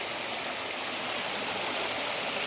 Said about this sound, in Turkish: çok güzel bir küçük bir şelale var.